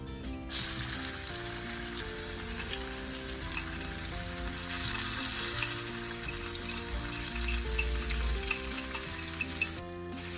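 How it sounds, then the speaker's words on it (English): String beans, onion, scallion, tomato and carrots sauté in a pan for Jamaican-style spaghetti with bully beef, giving a steady close sizzle with occasional stirring scrapes throughout, no talking. "Next, I'm going to saute my vegetables"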